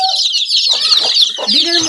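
A desi hen brooding her chicks clucks loudly and close by, giving a quick series of throaty clucks with a higher squawk-like tone running through them.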